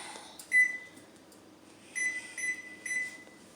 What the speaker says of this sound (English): Now I have to preheat the oven.